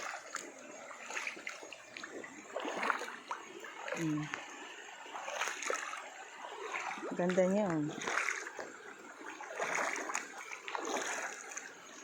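Water splashes in a stream where laundry is being washed, with scattered irregular splashes and trickling close by while people talk.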